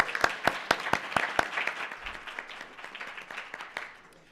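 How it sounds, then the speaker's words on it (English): At a school district board meeting the audience gives a round of applause, the sharp claps close and dense at first, then gradually thinning and fading over about four seconds. "Perhaps we can give Ms. Armstrong a round of applause."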